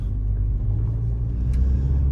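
A Mercedes A45 AMG Edition One engine rumbles at a steady, low drone from inside the moving car, with no talking over it.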